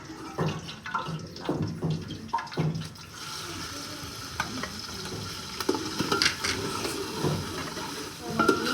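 Green chillies fry in hot ghee for a village-style chicken biryani: a few knocks and stirring sounds come first, then a steady, close sizzle holds for the rest.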